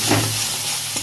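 Ground chili, turmeric, cumin and garam masala are stir-fried in hot oil in a pan, giving a close, steady sizzle with a light scrape of stirring throughout the short moment.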